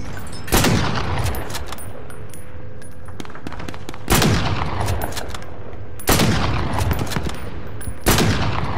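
Loud gunfire in Call of Duty: Cold War on Rebirth Island, four heavy, booming shots spaced a couple of seconds apart, each trailing off into a long echoing tail over a continuous rumble.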